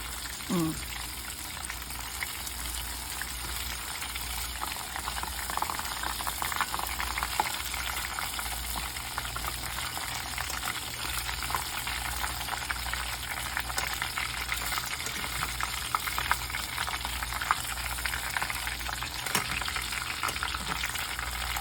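Buttermilk-battered mushrooms frying in hot oil, a steady loud bubbling sizzle that carries on without a break.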